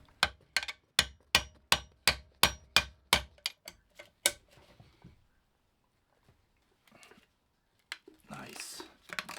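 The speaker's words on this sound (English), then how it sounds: "I was able to hammer an oversized Torx bit in and crack it loose." About a dozen sharp metallic hammer blows drive an oversized Torx bit into a stuck bolt on a VW diesel engine, in a fast, steady rhythm, then stop, leaving near silence and some brief rustling at the end.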